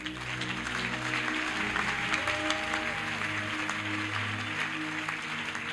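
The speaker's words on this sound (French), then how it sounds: "Même étant assis, tu peux royalement acclamer pour la croix de Jésus" Church congregation applauding and cheering during a sermon, a steady dense patter of clapping with sustained voices and tones blending underneath, moderately loud throughout.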